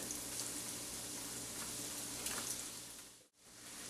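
Breaded tortellini dropped into hot frying oil, a loud, dense, steady sizzle and crackle close up that cuts off abruptly near the end.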